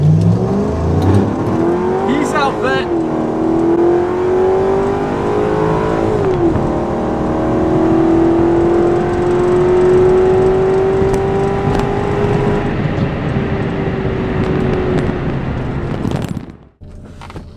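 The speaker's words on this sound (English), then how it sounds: "All right, I'm racing a C5 Vette." A Corvette, a project build aimed at 40 MPG, accelerates hard while racing a C5 Corvette. Its loud, close engine note climbs steadily through the revs for about sixteen seconds, then cuts off abruptly. No one speaks.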